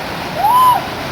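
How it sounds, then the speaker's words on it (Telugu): River water rushes over the rocks at Chaparai in Araku, making a steady, close, full roar that fills the whole moment, with a brief high whistling tone rising over it midway. "నది అదిగో"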